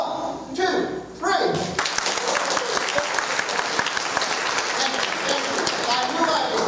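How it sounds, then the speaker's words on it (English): Audience applause at a Naples First Church of the Nazarene event, loud, dense clapping erupting after a brief voice and continuing steadily with cheers and crowd noise. "I want to hear a round of applause, okay?"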